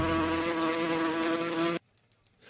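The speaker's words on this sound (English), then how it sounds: "Don't worry. They'll be back. They'll be back. Just bees." A swarm of bees buzzes in a loud, steady, droning hum that cuts off abruptly after nearly two seconds, leaving near silence.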